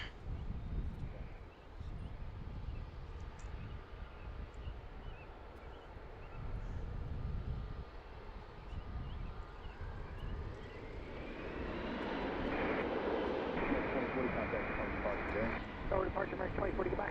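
An airliner takes off from runway 15 at Washington's DCA airport, its jet engine roar swelling and rising in pitch toward the end, heard beneath people talking.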